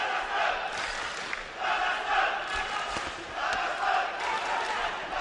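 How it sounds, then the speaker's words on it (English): Arena crowd at the 2011 AIBA welterweight boxing final chanting for the Kazakh boxer, rhythmic swelling waves of many voices at a distance. "Hear the crowd chanting for that Kazakhi boxer."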